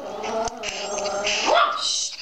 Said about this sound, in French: Chut, tais-toi. Excusez-moi, c'est mon chien.